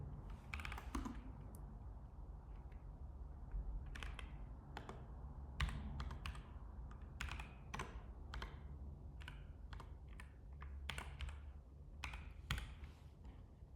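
Code typed on a computer keyboard: a steady run of close, quiet key clicks in uneven bursts with brief pauses, and no talk.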